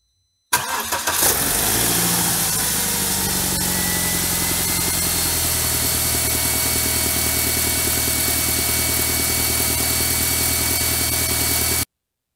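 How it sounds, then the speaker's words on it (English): A BMW N42/N46 four-cylinder, valve cover freshly refitted, cranks briefly and catches, then settles into a steady, even idle heard up close with no talking. "now it's time to start the engine before I put everything back together."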